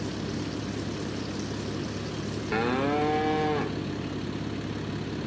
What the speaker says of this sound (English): You can hear the cows just talking away.